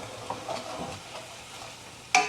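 Wine deglazing a hot cast iron pan gives a soft, steady hiss that runs the whole time, with a brief louder burst of sizzle near the end.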